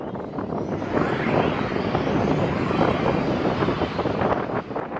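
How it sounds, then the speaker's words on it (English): US Air Force B-52 bomber making an emergency takeoff at full speed, a steady loud roar of jet engines with broad rushing noise and wind buffeting, sustained throughout without pause. "a U.S. Air Force B-52 aircraft had to make an emergency takeoff at full speed"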